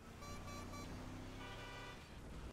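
A car horn sounds in GTA 5 Online, a few short toots over a steady engine and road rumble, close and fairly loud with no talking.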